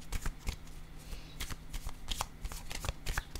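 Oracle cards are shuffled and drawn from a small deck, making rapid close riffling and soft slapping bursts in an uneven rhythm that runs throughout, with no talking.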